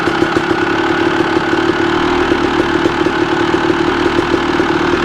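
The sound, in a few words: Honda CR250 1998 two-stroke motorcycle engine running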